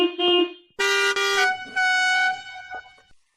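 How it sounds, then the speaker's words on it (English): Several car horn blasts ring out on a road in Puerto Rico, in short bursts, each held for a moment with brief gaps between them. The horns are loud and close, with no talk. "in Puerto Rico, we honk a little different"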